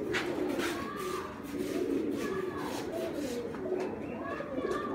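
Sialkoti pigeons, some of them golden, coo nearby in soft repeated rolling calls that overlap one another at a steady level, with faint background voices.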